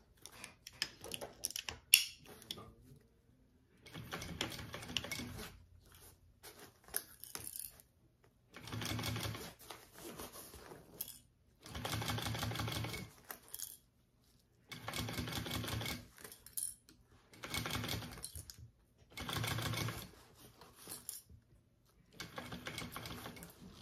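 A sewing machine stitching a small fold-and-zip petite backpack, running in repeated bursts of rapid mechanical clatter separated by short pauses, close and loud, with no talk over it.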